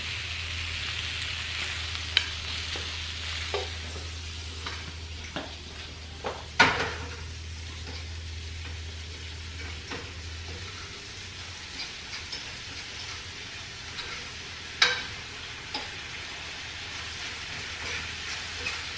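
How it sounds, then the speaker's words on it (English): Steak and onion frying in a pan for a homemade breakfast, a continuous sizzle close up with scattered utensil clicks and scrapes as the food is mixed, plus a low hum in the first half. "steak starts to brown and the onion starts to brown, you want to keep mixing it up"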